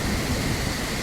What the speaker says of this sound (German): Es ist so laut und dann regnet es